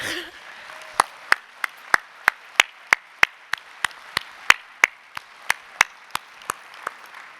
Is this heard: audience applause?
yes